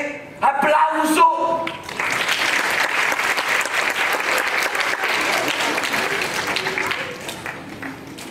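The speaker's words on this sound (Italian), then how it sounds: "sale sul podio e scoppia un primo breve applauso" A first short burst of audience applause in an Italian concert hall as the orchestra conductor crosses the hall and steps onto the podium at the Città dello Zecchino event, following a brief moment of voices and rising into steady, dense clapping.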